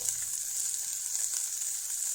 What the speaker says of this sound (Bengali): দুটা কাঁচা লঙ্কা দিয়ে দিলাম আর চার পাঁচটা রসুন এবার এগুলোকে নেড়ে চেড়ে ভেজে নেব